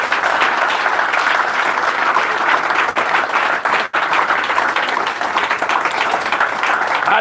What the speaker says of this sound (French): applaudissons pour lui alors